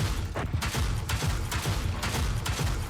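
Tank shelling in the Project CW tank war game, a steady barrage of dense, thudding explosions and rumbling booms packed close together for a few seconds, loud and unbroken.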